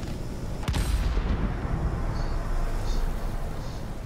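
Aircraft guns firing at a bomber in a flight combat video game featuring the F7F, a dense rumbling burst of gunfire after a sharp opening crack, steady and loud for several seconds with no speech.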